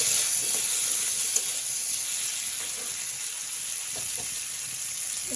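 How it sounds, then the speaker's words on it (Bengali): Food frying in a pan after salt is added, a steady, close sizzle and hiss with faint stirring movements, no voices. "লবণ দিয়ে দিলাম হালকা করে ভেজে নিই"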